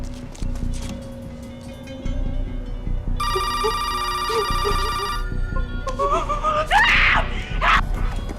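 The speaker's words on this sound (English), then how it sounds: "Screaming inside the house." Screaming rises from inside a house during a police standoff; a telephone-like ringing tone comes first, then a high, wavering wail that climbs and falls over steady background hum, heard from some distance.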